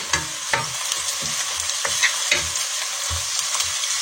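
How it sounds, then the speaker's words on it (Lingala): Chopped onions sizzle in hot oil in a cooking pot while a spoon scrapes and stirs them in quick, regular strokes, close up and without talk. "Na nzungu oyo nazo kalingela matungulu mpona kolamba matembele."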